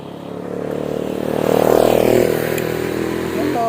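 A motorcycle passes nearby on a road during a walk, its engine swelling louder to a peak and then fading, with a voice talking over it.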